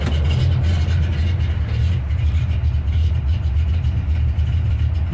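A car engine with a Carter AVS2 carburetor and a bigger cam idles at about 400 RPM, a steady low rumbling throb close by with slight uneven pulsing.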